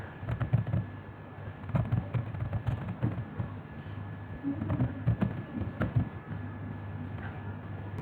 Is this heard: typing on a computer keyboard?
yes